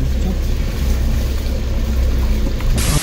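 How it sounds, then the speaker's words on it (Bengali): Rushing water from a waterfall in Nepal, a steady broadband roar with heavy low rumble throughout, loud and close, with a brief brighter hiss near the end. "দুর্দান্ত একটা ওয়াটারফলের সামনে এসে পৌঁছালাম।"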